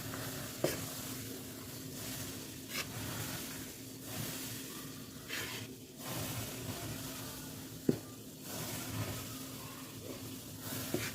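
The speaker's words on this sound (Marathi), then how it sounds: "आपण हा एकदम गरम असा डालडा याच्यामध्ये टाकून घ्यायचा आहे मैद्यामध्ये आणि याला मिक्स करून घ्यायचं आहे" Hot dalda (vegetable ghee) poured into maida flour for sweet shankarpali dough gives a steady hiss and sizzle, with a few sharp clinks and stirring scrapes along the way and no talk.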